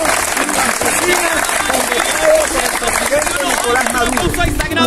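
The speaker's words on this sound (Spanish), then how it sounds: "Vamos a darle un fuerte aplauso al Congreso" Applause from an audience at a peasants' congress in Venezuela, dense clapping mixed with crowd noise and voices, loud and steady throughout.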